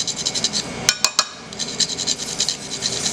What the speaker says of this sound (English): Nutmeg with our handy dandy grater